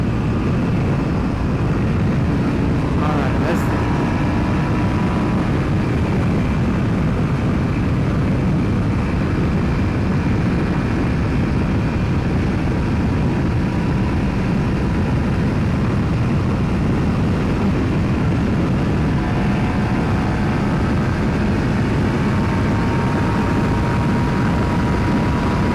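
A BMW F900XR motorcycle accelerates in fifth gear on the Autobahn, a steady, loud engine drone buried under heavy, unbroken wind roar for the whole stretch.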